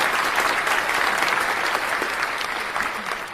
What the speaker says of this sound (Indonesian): kita berikan tepuk tangan kepada Rahmat Solihan.